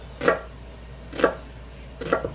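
A knife slices through an onion on a cutting board in three evenly spaced, close chops with quiet pauses between, no talking.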